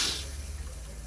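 Water rushes into an RV toilet bowl as a foot pedal is pressed partway down, giving a brief hiss of filling water that starts loud and settles into a steady flow, with no talking.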